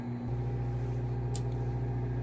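A microwave oven runs while heating chocolate, a low steady hum with a constant drone throughout, faint and close, with a tiny click partway through and nobody speaking.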